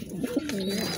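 Pigeons cooing close by, a low throaty rolling coo repeated within about a second, with a faint higher chirp behind it.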